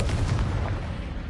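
A Confringo blasting spell in Hogwarts Legacy bursts with a short, heavy rumbling blast that fades over about a second.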